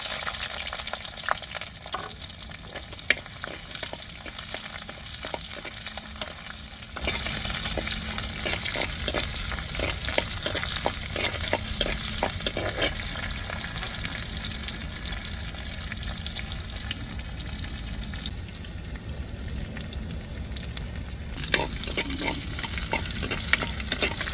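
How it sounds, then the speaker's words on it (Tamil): Small onions sizzling and frying in hot oil with fenugreek for a fish curry tempering, with repeated scraping stirs of a spoon in the pan; steady close sizzle throughout, no talking. "இப்போ நான் கட் பண்ணி வச்சுருக்க சின்ன வெங்காயத்தை சேர்த்துக்கிடுவோம்"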